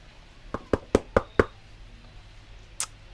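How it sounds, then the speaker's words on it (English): Knocking on a house door from a porch: five sharp, evenly spaced raps, then a single fainter knock after a pause, close and clear with no talking. "knock on the door"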